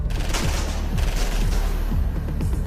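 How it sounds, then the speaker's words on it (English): Automatic gunfire rakes a car in a mob ambush, a dense, loud fusillade of rapid overlapping shots with heavy low booms running continuously throughout. "Automatic gunfire rakes Stanfa's car, and all hell breaks loose."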